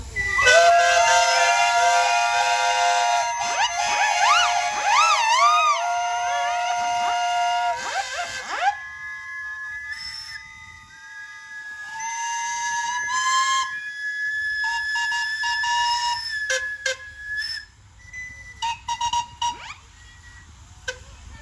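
Many steam engine whistles at a steam rally parade shriek together in a loud chorus, sliding and wavering in pitch, then scattered single whistles sound and trail off in short blasts.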